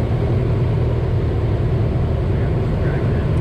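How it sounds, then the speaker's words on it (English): A Luscombe tailwheel airplane makes its final landing during a lesson, heard from inside the cockpit as a loud, steady low engine drone and rumble that continues without a break. "Here's the final landing."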